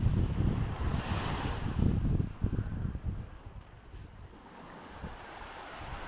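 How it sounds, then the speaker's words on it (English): Steady west wind gusting across open water near a bridge, a broad rushing roar with surf-like wash, loudest in the first two seconds and then easing to a softer, constant blow. "there's a west wind blowing it. And it's creating some havoc on the bridge"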